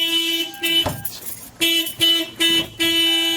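A car alarm sounds in repeated harmonic horn-like blasts, loud and close, pulsing in an uneven rhythm with short gaps between honks.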